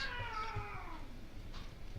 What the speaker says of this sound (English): We got two tomcats who live here, and they're still trying to work it out.